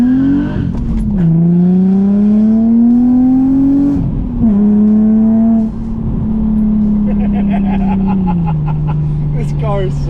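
Mercury car engine droning steadily at about 2,500 RPM while driving, a loud, constant in-cabin hum with a few brief pitch dips and small rises, and a voice talking over it.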